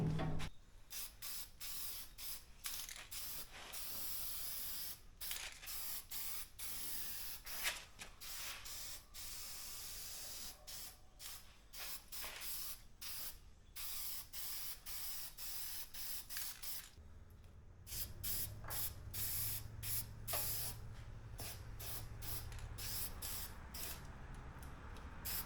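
Spray paint hisses in short and long bursts while go-kart parts are refinished during a rusty Manco Dingo restoration, with steady pulses close by and a low hum entering near the end.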